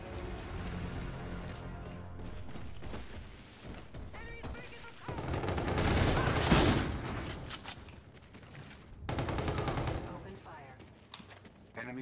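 Gunfire from the video game Call of Duty: Infinite Warfare comes in rapid automatic bursts and heavy explosive blasts that swell and fade across the stretch, mixed with game sounds and occasional talk.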